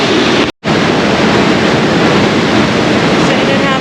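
Loud, steady rushing water from a waterfall at a nature preserve in the Poconos, a close broadband roar filling the whole stretch with a brief dropout near the start.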